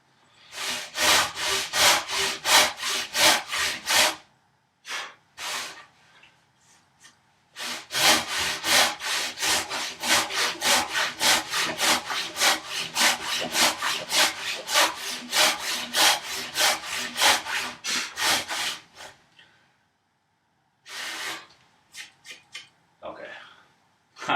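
A hand saw cuts tenon cheeks in wood stock with long runs of quick, rhythmic rasping strokes, close and fairly loud, broken by short pauses and a brief stretch of quiet.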